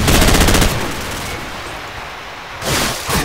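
Gunfire in the video game Call of Duty: a loud burst of rapid automatic shots, a quieter stretch of distant rattling fire, then two more sharp bursts near the end, with no talk.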